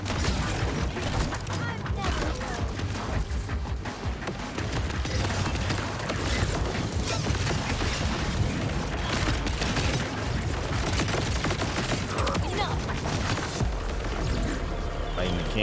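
Gunfire echoes through a shooter video game as steady, dense bursts and booms under loud game audio that plays the whole time.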